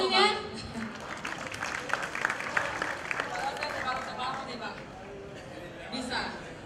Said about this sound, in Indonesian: Mohon tepuk tangannya.